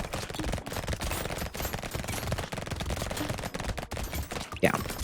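Rapid automatic-sounding gunfire from a sniper rifle in the Brotato video game, a dense, continuous barrage of loud shots with overlapping game effects and no pauses.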